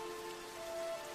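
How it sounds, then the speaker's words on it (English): Steady rain falls on a surface as a continuous, even hiss of close patter, with no voices. "I've been enjoying the rain."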